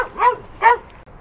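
A dog somewhere behind on a footpath in Würzburg gives two short, yappy barks about half a second apart, moderately close and clear, with no talk over them.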